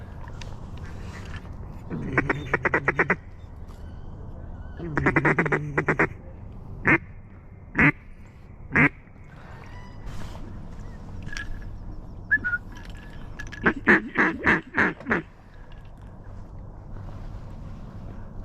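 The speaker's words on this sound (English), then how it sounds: "Hearing mallards, hearing woodies." Mallards and wood ducks calling around a flooded hunting hole at the Arkansas duck season opener: several bursts of rapid, raspy quacks and sharp squealing calls at mid distance, separated by quiet stretches with faint wind and background hum.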